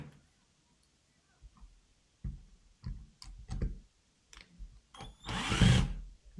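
Stanley drill driver spinning a bit that slips out of a screw's damaged slot, giving short bursts of clicking and whirring, ending in one louder, sustained run near the end.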